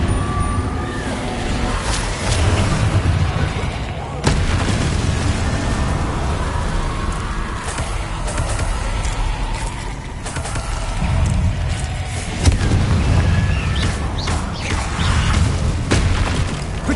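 Confringo blasting spells bursting repeatedly in Hogwarts Legacy, loud booming impacts and crackling bursts layered over a dense, continuous game soundscape.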